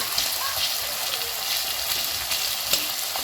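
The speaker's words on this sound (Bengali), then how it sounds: "পেঁয়াজ কুচি দেওয়ার পরে কিছুক্ষণ একটু ব্রাউন করে করে ভেজে নেব" Finely chopped onion frying in oil until browned, a steady close broadband sizzle that runs unbroken with small crackling pops throughout.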